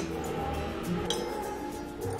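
Rice flour batter with salt and water being stirred in a bowl for neer dosa, giving a steady wet churning with a single bright clink against the bowl midway.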